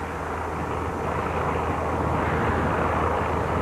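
Steady, loud engine drone from obsolete seaplanes, a broad continuous roar with a low hum that holds evenly for the whole stretch, with no voices over it.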